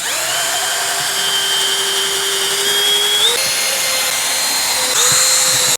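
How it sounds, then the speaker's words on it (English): A power drill fitted with a small 1/8-inch bit bores pilot holes into a garage wall, giving a loud, continuous high whine that holds steady and shifts pitch slightly as the load changes, with no talking. "We're gonna start with the 1/8 just to get it, you know, the hole lined up, and then we'll come back with a 3/8 bit to open it up a little bit."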